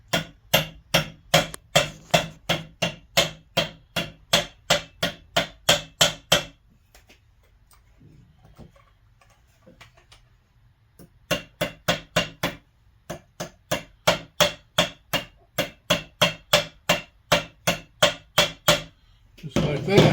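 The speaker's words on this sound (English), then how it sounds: "And we'll tap this one on too. We'll probably use the metal anvil." A metal part of an Antikythera mechanism kit is tapped into place with a hammer on a metal anvil, giving crisp, regular ringing strikes in two long runs separated by a quiet pause, close and loud.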